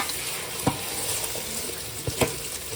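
Mutton pieces for white mutton biryani sizzling and frying in hot oil, a steady soft crackle with a few sharper pops and stirring clatters, close by.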